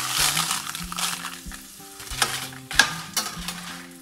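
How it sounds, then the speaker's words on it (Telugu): Chana dal, dry coconut pieces and red chilies dry-roasting in a pan over medium heat, with a soft steady sizzle and crackle and several clinks of a spoon stirring against the pan; a quiet tonal sound hums underneath. "స్టవ్ని మీడియంలో పెట్టుకొని ఫుల్ రోస్ట్ అయ్యేంత వరకు ఫ్రై చేసుకోవాలన్నమాట"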